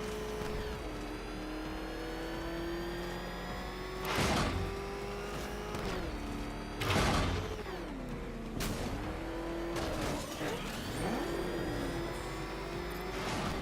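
Batmobile engine in the video game Batman: Arkham Knight, a steady loud motor drone with rising and falling revs, several sharp bursts of acceleration or impact, no talking.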